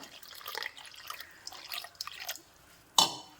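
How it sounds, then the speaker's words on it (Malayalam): Water is poured onto semolina to soak it, in uneven trickles and splashes into a container, ending with a sharp clink. "ഇത് നമുക്കൊന്ന് കുതിർക്കാൻ ആവശ്യത്തിന് വെള്ളം ഒഴിക്കാം"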